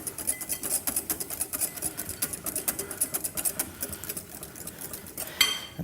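A whisk clatters rapidly and steadily against a bowl as a rich sauce emulsifies, a busy rhythmic scraping that runs throughout at close range with a sharper clink near the end.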